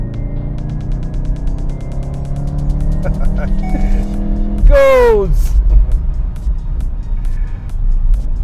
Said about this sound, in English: Acceleration of this car is crazy.